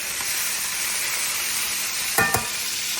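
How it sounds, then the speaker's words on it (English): Beef short ribs sizzle in a hot pan with a steady broadband hiss throughout, broken near the end by a couple of brief clatters from stirring or moving the meat. "we have finished searing our beef short ribs, adding the first back. It's hot."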